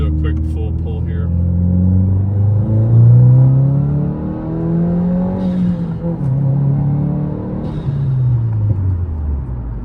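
A 2022 Subaru WRX fitted with a Perrin charge pipe and an ETS cold air intake makes a full-throttle pull. The engine note is loud and close, rising through the revs, dropping briefly at a shift and climbing again.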